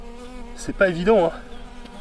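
Honeybees robbing a hive around small nucleus hives make a continuous close buzzing drone, while someone speaks briefly in French over it.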